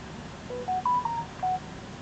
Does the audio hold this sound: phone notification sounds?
yes